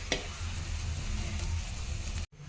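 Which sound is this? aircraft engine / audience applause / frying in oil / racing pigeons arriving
frying in oil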